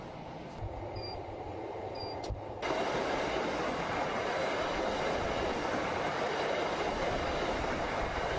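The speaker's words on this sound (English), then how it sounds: "This train trip takes only 15 minutes." Pilgrim train running from Mina to Arafat, heard from inside as a steady rumbling roar of wheels on rails that grows louder partway through, with a couple of faint electronic beeps early on.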